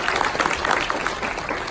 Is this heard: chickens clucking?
no